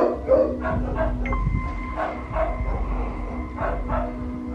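Several dogs at a fence bark and yip repeatedly at close range in uneven bursts, with a steady low hum running underneath.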